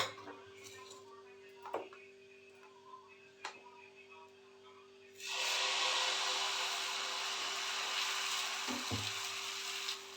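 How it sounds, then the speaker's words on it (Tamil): Dosa batter made with musumusukkai greens poured onto a well-heated tawa, bursting into a loud, steady broadband sizzle that starts abruptly midway after a few quiet kitchen ticks and clicks. "தவா வந்து நல்லா சூடாயிடுச்சு. இப்போ வந்து நம்ம தோசை ஊற்றிடலாம்."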